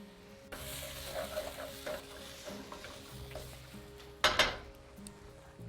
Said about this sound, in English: half a teaspoon of turmeric, and a 1/4 teaspoon of red chili, and this will add the heat at the back of your throat. Let's give this a stir.